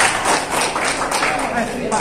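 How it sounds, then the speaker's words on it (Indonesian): Audience applause at a political gathering, a national working meeting: dense, continuous clapping with a loud voice speaking over it throughout. "Kembali berikan tepuk tangan yang paling meriah untuk Bapak Amin sudah siap dan berjuang."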